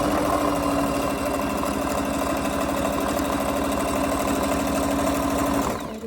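A sewing machine stitches along the edge of a blue fabric face mask, running in a steady, fast mechanical rhythm for several seconds before slowing to a stop at the end.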